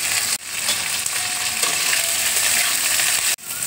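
Chili frying in a pan with coriander and nigella seeds, a steady loud hiss and crackle filling the whole stretch, with two brief abrupt breaks in the sound.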